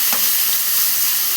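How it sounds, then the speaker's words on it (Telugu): Onions fry in a pan with a loud, continuous hissing sizzle that stays close and even throughout the short stretch, with no voices over it. "ఇదంతా బాగా ఫ్రై అవ్వాలి."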